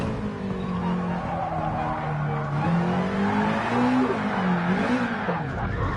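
A rally car in a racing video game spins under heavy throttle, its engine droning loud and steady with wavering pitch as the tires scrub and squeal throughout.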